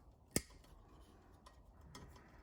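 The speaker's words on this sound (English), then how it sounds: "So I'm just going to cut the main power wire right there." Wire cutters make one sharp snip through the main power wire of a solar light. The click is close and distinct, followed by a few faint ticks in a quiet room.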